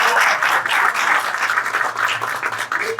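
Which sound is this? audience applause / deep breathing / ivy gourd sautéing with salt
audience applause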